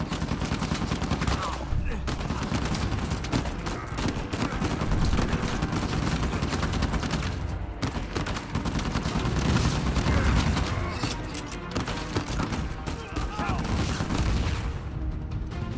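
Heavy machine gun fire in the video game Uncharted 4 rattles in dense, sustained bursts with booms and crashes mixed in, loud and nearly unbroken, with brief pauses between volleys.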